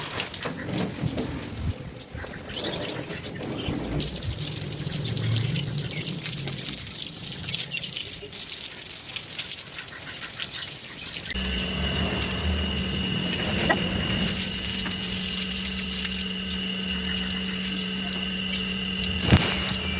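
Water runs steadily from a hose onto a yard, splashing and hissing across a hard surface, with a continuous tonal hum joining partway through.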